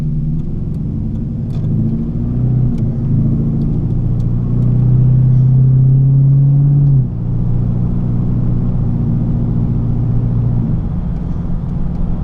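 A Clubsport car runs on a test drive following a transmission rebuild. The engine rumbles continuously and loudly from inside the cabin, rising in pitch through the gears with a brief held surge midway, and no one speaks.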